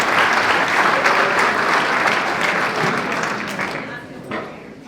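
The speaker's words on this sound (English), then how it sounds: "Huge round of applause to all the parents, everyone who helped set this up again." Audience applauding at a 2020 senior speech, loud sustained clapping from a full room that gradually fades over about five seconds.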